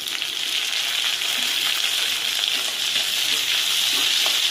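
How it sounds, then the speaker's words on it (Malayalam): Dried red chilies and curry leaves with chopped shallots frying in oil in a pan for beetroot thoran, a steady bright sizzle held close and loud throughout, with faint scrapes of stirring beneath. "നന്നായിട്ട് ഇളക്കി കൊടുത്തു."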